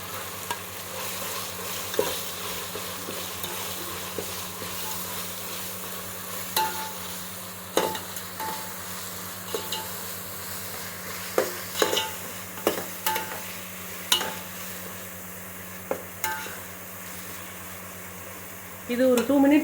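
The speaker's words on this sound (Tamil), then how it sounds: "இஞ்சி பூண்டு நல்லா வதங்கிடுச்சு." Ginger and garlic sautéing in oil for chicken biryani give a steady, close sizzle over a constant low hum, with intermittent clacks and scrapes of stirring that grow more frequent toward the end.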